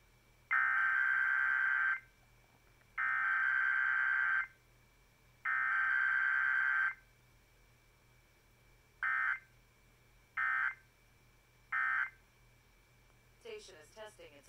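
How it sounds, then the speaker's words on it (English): Emergency Alert System test tones air on Pittsburgh radio station 93.7 The Fan: three long buzzing data bursts, then three short ones, followed by a brief warbling tone, clear and electronic over faint hum. "This concludes this emergency alert system test."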